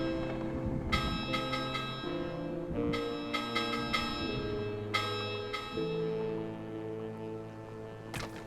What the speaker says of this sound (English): We also still haven't figured out the mystery of the bells.